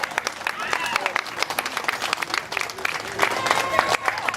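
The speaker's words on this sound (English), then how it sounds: "Give him a round of applause." Crowd applause greeting a guest joining a mayoral candidate's campaign event, dense sharp claps at fairly loud level, sustained throughout with some crowd noise and a possible voice mixed in.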